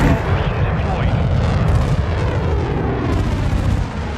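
A turret destroyed by an explosion in Modern Warfare II, a sustained loud rumbling blast with crackling debris that roars on throughout, with a voice talking over it.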